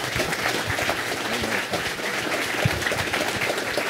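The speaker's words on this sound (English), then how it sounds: "Huge round of applause, everyone." An audience at a panel on the game Rogue gives a big round of applause, dense and continuous clapping at moderate loudness from start to finish.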